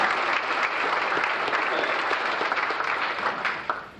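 Audience at an FFA banquet in Casey County applauds steadily in a dense, even wash of clapping that tapers slightly at the end, with no talk over it.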